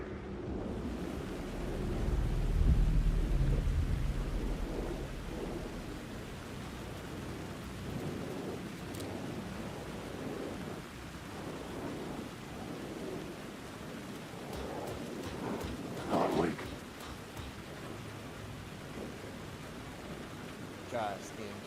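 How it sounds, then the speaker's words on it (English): Steady rain with low rumbling thunder from the video game Alan Wake 2, a constant wet hiss with a heavier roll of thunder early on and a few brief crackles later, heard alone without talk. "The rain never stopped falling."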